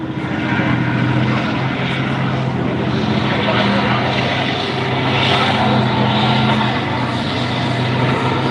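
Fox armoured car driving past at a tank festival, a loud steady engine roar and rumble close by, with people talking over the noise.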